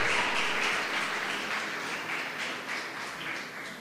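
Steady applause from a church congregation fills the room, a dense, even wash of many hands clapping at moderate distance that holds throughout with slight swells.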